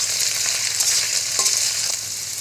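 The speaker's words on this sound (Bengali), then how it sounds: "শুটকিগুলোকে পেঁয়াজের সাথে অল্প কিছুক্ষণ ভেজে নেব।" Dried fish and onions fry in a pan with a steady, dense hiss, a close continuous sizzle with faint stirring clicks and no voices.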